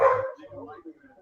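A pet dog barks sharply once at close range indoors, then trails off into softer yips and whimpers.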